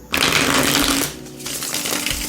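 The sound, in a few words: shuffling a large deck of oracle cards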